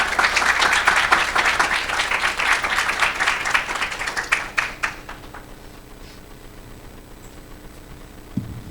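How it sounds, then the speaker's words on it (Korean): Audience applause at a Korean ESG academic forum, dense and loud clapping for about five seconds before tapering off into a quiet hall. "큰 박수 부탁드립니다."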